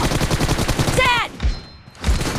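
Rapid bursts of gunfire in a shooter video game crackle close and loud, with brief pauses between volleys and faint voices underneath.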